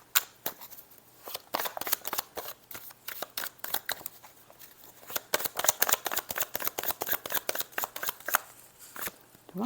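Tarot cards shuffle in rapid riffling bursts, crisp papery flicks and slaps repeating close up for several seconds, with no talking.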